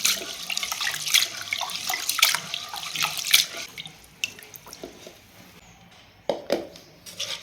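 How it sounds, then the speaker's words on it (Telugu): Toor dal lentils are rinsed in a pressure cooker under running tap water, with irregular splashes and swishes, a quieter stretch and a few louder sloshes near the end. "కందిపప్పుని 2 సార్లు శుభ్రంగా కడిగి తీసుకున్నాను."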